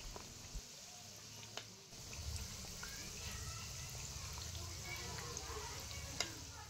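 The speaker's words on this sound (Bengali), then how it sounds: "এই মিষ্টিগুলো কিন্তু এইভাবে একটু উল্টে পাল্টে ভেজে নিতে হবে ভালো করে।" Balushahi sweets made of flour sizzle steadily in hot oil while being turned, with occasional soft clinks and stirring sounds; no one speaks.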